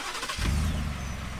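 Engine of a Shelby F150 Super Snake Sport pickup with a custom Borla exhaust cranks and catches, then settles into a steady low rumbling idle, close and fairly loud with no talking over it.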